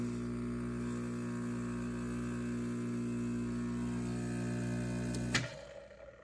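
A Profitec Go espresso machine's pump runs while backflushing the grouphead and solenoid valve, a loud, steady buzzing hum that stops abruptly near the end with a brief release.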